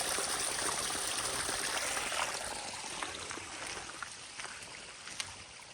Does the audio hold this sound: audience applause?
no